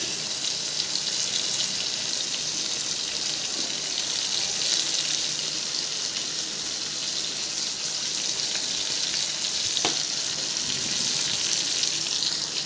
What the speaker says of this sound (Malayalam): മുളക് പൊടി ഇട്ട് കൊടുത്തിട്ട് ഒന്ന് വഴറ്റും.